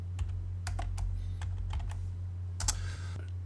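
Keys clack on a computer keyboard while a command is entered in AutoCAD, a handful of sharp, separate taps in an irregular rhythm over a low steady hum.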